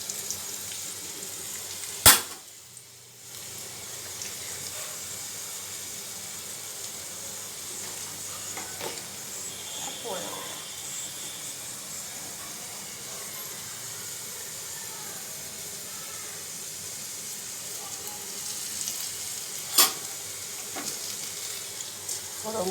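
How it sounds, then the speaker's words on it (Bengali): Garlic and food sizzle and fry in a kadai while being stirred and cut with a utensil, a steady close sizzle broken by a few sharp scraping clicks. "এই কড়াতেই বলি আমি কেটে নিই, ভাজতে ভাজতে কেটে কেটে নেবো"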